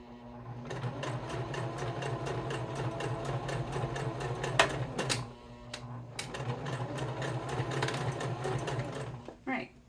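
A sewing machine back stitches at the start of a rope coaster in rapid, steady bursts, pausing briefly mid-run before running again. A voice talks quietly over the machine throughout.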